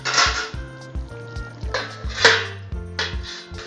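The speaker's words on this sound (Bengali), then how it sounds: "এবার ঢাকা দিয়ে দেব।" A metal lid is set onto a cooking pot of chicken curry with a series of loud, close clanks and rattles, several distinct metallic hits spread across a few seconds with ringing tones between them.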